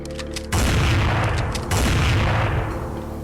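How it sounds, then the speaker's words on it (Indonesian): Two loud, sharp pistol gunshots ring out in quick succession, each followed by a heavy booming rumble. "Pistol yang baru dicabut dari sarungnya langsung ditembakkan ke dahi bapaknya."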